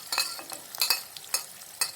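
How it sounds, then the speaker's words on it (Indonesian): Onion sautéing in a frying pan while being stirred, with short, repeated scraping and clinking strokes over a faint sizzle, close up and without talk. "kita masukkan bawang bombay, kita goreng dia, kita tumis dia sampai wanginya meluap-luap"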